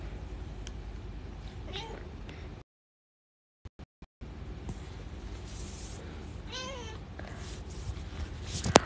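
A kitten meows several times, thin rising-and-falling cries spaced apart, interrupted by a short silent gap and a few clicks, over a low room background.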